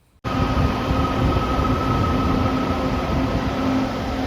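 A light rail train's steady, loud rumble and hum fills the whole recording, with a faint high whine and a low tonal drone and no speech.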